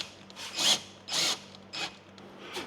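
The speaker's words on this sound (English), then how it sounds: "This drywall screw with the drywall bit, this has a little clutch on there that doesn't let you go too far." A drill with a clutch-equipped drywall bit drives a drywall screw through drywall into a stud, giving four short, sharp whirring bursts with brief pauses between them, close by.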